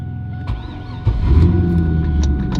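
A modified F-body car engine rumbles loudly with a deep, throaty exhaust note, rising as it revs near the listener.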